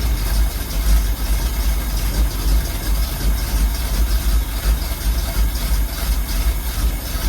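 An old 1971 Ford custom van engine, long abandoned and being revived, idles steadily with a deep, even rumble and slight lumpy pulsing, close and loud throughout with no voices.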